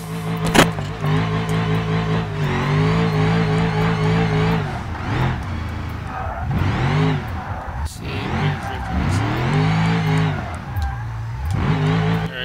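A car drifts in BeamNG.drive with a loud, close engine revving up and down in sweeping waves and intermittent tire squeal through the turns, while someone talks over it.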